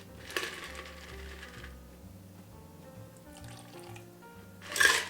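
A creamy Alexander cocktail single-strained from a shaker into a Nick and Nora glass, a soft, quiet trickle and pour with a faint clink at the start and a brighter splash of liquid near the end.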